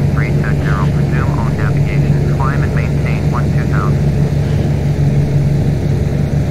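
Aircraft engine at climb power in Flight Simulator X: a loud, steady droning hum with a constant low tone and no change in level throughout, while someone talks over it in short chirpy bursts.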